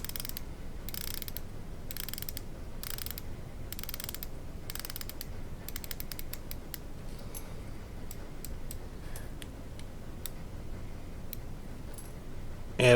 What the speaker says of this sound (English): That's the bezel going around.